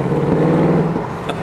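A Mercedes-AMG car engine drones loud and close in a steady, throaty rev that eases slightly near the end, with no talking over it.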